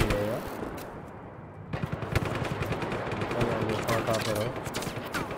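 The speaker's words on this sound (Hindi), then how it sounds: "कहाँ कहाँ से गोलियाँ फूट रही है।" Bursts of automatic gunfire ring out in the Just Cause 3 open-world action game, dense rattling volleys with short gaps, loud and close over game ambience, with someone speaking briefly at times.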